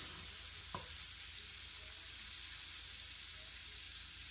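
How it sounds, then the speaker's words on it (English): Pepperoncino sizzling steadily in a pan over lowered heat, a soft continuous fry with one brief stir or clink near the start, no voices. "I had to lower heat because the pepperoncino is burning as soon as you're cooking"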